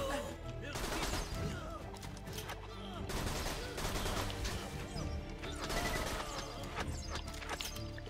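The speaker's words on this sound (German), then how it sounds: "dann reflektiert er unsere Schüsse" Enemy gunfire in the video game Borderlands 2, rapid dense bursts of shots and impacts crackling continuously over a busy battle mix, fairly loud throughout.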